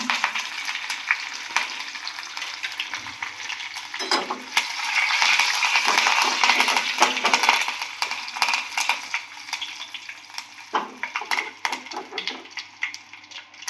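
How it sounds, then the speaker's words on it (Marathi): Dried chili and curry leaves tempering in hot oil for a pohe dosa chutney, a loud continuous crackling sizzle that swells in the middle and stays close throughout. "चला तर आपण आता मिरची आणि कढीपत्ता टाकून घेऊया बघू शकता तुम्ही तडका किती छान बसला"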